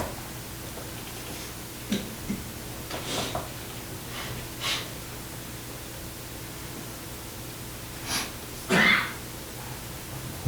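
One sharp sneeze near the end of a city council meeting, with a few faint clicks and rustles earlier against a quiet room hum.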